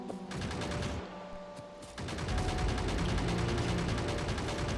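Turret gunfire hitting the player in the video game Factorio, rapid continuous mechanical firing with a brief lull before growing denser and louder, steady and close.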